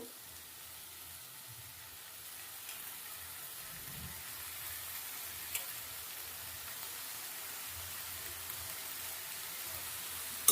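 Potato and eggplant fry in a pan as washed drumstick flowers go in, giving a steady, faint sizzle and hiss close by with light stirring and no talk.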